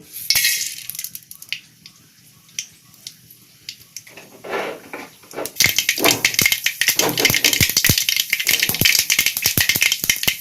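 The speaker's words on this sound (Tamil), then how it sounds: "கடுகு வெடிச்சிருச்சுங்க" Mustard seeds crackle and spatter in about a tablespoon of hot oil in a pan while making a Kerala-style buttermilk curry, with sparse pops at first that become a dense, loud, continuous sputtering.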